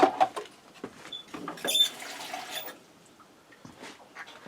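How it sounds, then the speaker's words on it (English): Water splashes and trickles briefly into a Ninja Speedi cooker pot, close by, with a short burst of pouring in the middle and quiet drips around it. "I think I'm going to add just a little more water in here"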